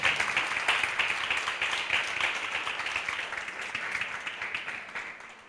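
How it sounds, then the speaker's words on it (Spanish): Applause from a church congregation during a Sunday morning sermon, a thick continuous wash of many hands clapping that holds steady and slowly tapers over several seconds, with no voices on top. "¿Puede darle un fuerte aplauso al Señor esta mañana?"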